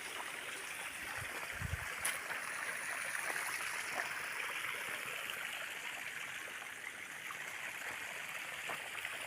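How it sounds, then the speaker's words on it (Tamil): Water flows at a deep, square farmland well, a steady continuous rushing and trickling wash that holds unbroken throughout at moderate volume, with no talking. "தண்ணி போயிட்டுருக்கு."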